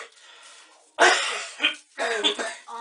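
A man coughs in the background of a quiet room: a few harsh, throaty bursts spaced about half a second apart, fairly close and distinct, with a faint murmur before them.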